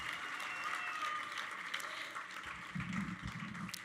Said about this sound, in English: One more round of applause for Big Brothers Big Sisters of Long Island.